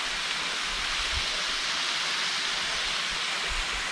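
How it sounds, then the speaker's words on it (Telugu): A mountain waterfall in the hills of Lankamala forest roars as a steady, dense rush of water, loud and unbroken throughout, with no voices. "చుట్టూ కొండ జలపాతం చూడండి."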